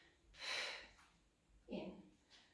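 A soft, close inhale followed by a breathy exhale during a Pilates exercise, quiet and airy with a short pause between breaths and no talking.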